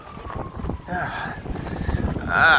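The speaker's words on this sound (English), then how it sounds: "windy day" Gusty wind buffets the microphone in uneven bursts, with low rumbling thuds and a faint whistling tone rising near the end.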